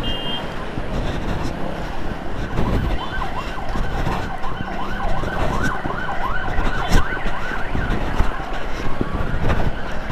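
An ambulance siren wails continuously in heavily jammed traffic, its rising and falling sweep loud and close over engine rumble and road noise, while an escort rider moves vehicles aside for an emergency patient.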